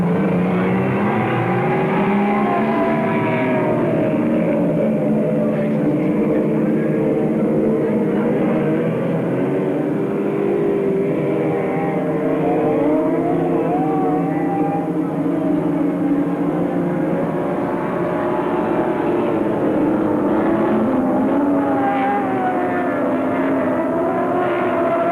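Thirteen racing powerboats roar away from the start at Chasewater in 1974, a loud, continuous drone of many engines with shifting pitches as the field accelerates, with a commentator's voice underneath.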